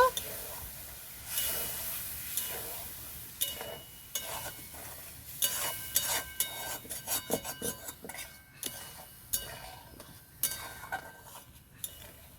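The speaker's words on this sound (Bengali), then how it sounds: "টক দইটাকে ভালো করে ফাটিয়ে নিয়েছি এখন আমি দিয়ে দেব ভালো করে মিক্স করে নেব" Beaten sour yogurt is stirred into a pan while cooking masala potatoes, with clinking spoon scrapes against the pan and a soft sizzle, the strokes quickening into a busy rhythm.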